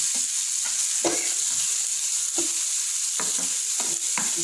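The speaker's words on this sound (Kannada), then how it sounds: "ಟೊಮ್ಯಾಟೊ ಹಾಕ್ಕೊಂಡು ಫ್ರೈ ಮಾಡ್ಕೊಳ್ಳಿ" Tomatoes fry with onions in a pan, giving a steady loud sizzle with a few sharp stirring scrapes spaced through it, and nobody speaks.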